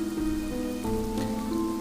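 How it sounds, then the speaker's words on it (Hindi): Heavy rain falls steadily in a storm, a dense continuous patter with a low droning undertone, close and even throughout. "बारिश और तेज़ हो गई"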